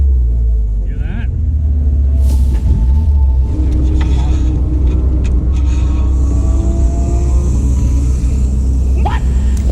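Close, continuous low rumble of an idling Ecotec engine in a Miata, apparently suffering rod knock after being blown, with a repetitive knock under the drone and faint voices nearby.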